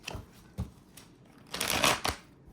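A deck of tarot cards is shuffled close by in several short papery bursts, ending in a longer, louder riffle, with no talking.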